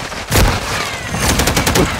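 Rapid turret gunfire in Call of Duty MW3 multiplayer, a loud, dense stream of overlapping shots with a heavy boom near the start, sustained for the full two seconds with no speech.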